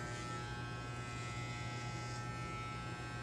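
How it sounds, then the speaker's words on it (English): Electric clippers with guards trimming beard hair: a quiet, steady buzzing hum, faint and close, running continuously without pauses. "take your clippers down and you can barely hear that hair coming off."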